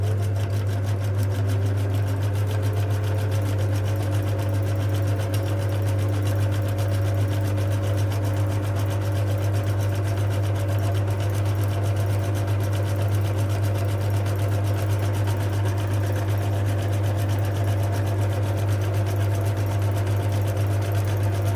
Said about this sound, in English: the sewing machine, I do always warn you each time, it's old and it's very noisy